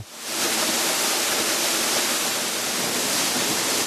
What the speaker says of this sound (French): des gorges étroites vomissent des milliers de mètres cubes d'eau vive